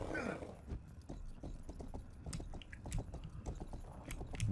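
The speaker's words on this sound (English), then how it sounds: "We'll just take this horse here." Horse hooves clip-clop steadily in the video game Rustler, a quiet, regular run of hoofbeats over low background rumble.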